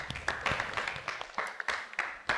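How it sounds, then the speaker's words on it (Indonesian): Children in a classroom give a round of applause, several bursts of clapping that rise and fall over a couple of seconds at moderate distance, with a few louder individual claps standing out. "Tepuk tangan dulu anak-anak"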